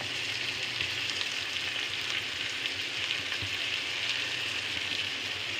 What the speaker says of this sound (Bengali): পেঁয়াজটা কচুটা একসাথে ভাজা ভাজা হবে একটু লাল লাল মতো হবে ততক্ষণ এটা ভাজা হোক